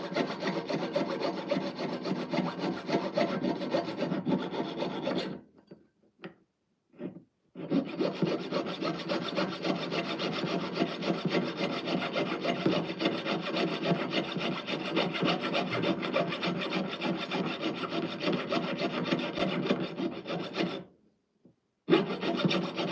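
A jeweler's saw rasps steadily through a metal casting sprue in a jewelry studio, with close, continuous strokes that pause briefly twice, then resume, and stop once more near the end.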